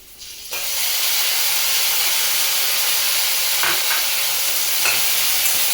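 Onions dropped into a hot pan with garlic paste for a prawn thokku, a sudden loud burst of sizzling that then holds as a steady, close hiss with a couple of faint clinks.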